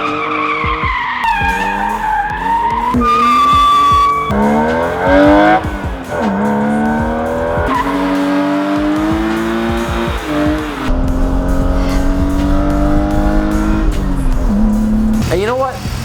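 BMW E36 M3 car skidding hard with loud, sustained tire squeals that rise and fall in pitch over a continuous engine roar, close and intense throughout.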